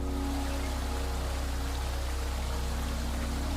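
Water pours and rushes steadily over the tufa barriers of the Plitvice waterfalls, a dense, continuous roar with no pauses.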